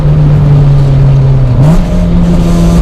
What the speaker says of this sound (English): if I put my foot down, VTEC was that almost instant